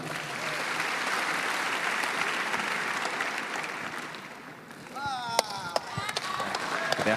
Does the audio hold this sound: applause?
yes